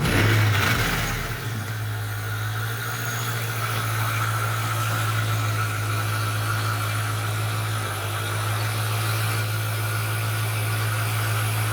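A stock 4.6-liter two-valve V8 in a 2003 Ford Mustang GT idles steadily up close, a deep even rumble with a brief blip of revs at the start, no talking.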